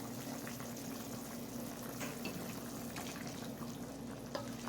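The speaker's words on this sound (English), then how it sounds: "our beef asado is boiling now." A quiet, constant bubbling simmer of beef asado boiling in a pot, with a low hum underneath and no voices.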